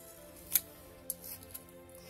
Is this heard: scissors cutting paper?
yes